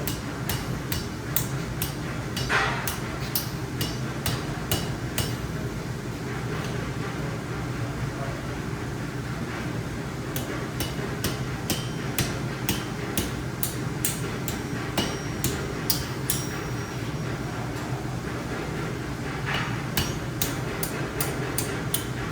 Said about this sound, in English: What I'm going to start doing is start to forge it down, like so.